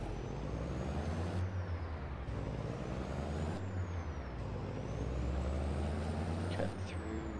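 Heavy truck in Farming Simulator 22 rolling steadily along with a loud continuous diesel drone and tonal whine, with brief hissing air-brake releases near the start and around the middle.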